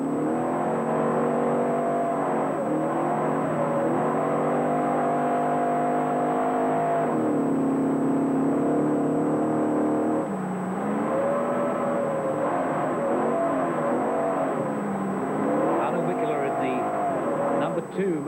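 Mercedes works rally car from 1980 driving a forest special stage, engine revving hard with rising and falling pitch sweeps, loud and steady throughout, with a commentator talking over it.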